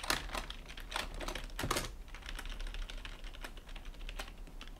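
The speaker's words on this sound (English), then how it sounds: "It probably sounds like a mechanical one because I guess the microphone's very close to the keyboard." Rapid, uneven keystrokes on a Microsoft ergonomic keyboard, recorded very close so the clicks sound crisp and almost mechanical, continuing alone and fairly quietly for several seconds.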